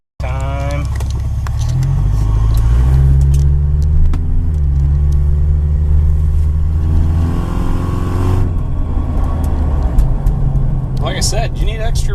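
A 2001 Subaru Outback fitted with a vacuum-hose snorkel intake drives along, its engine rising and settling through loud, steady road noise, with a voice speaking over it near the end.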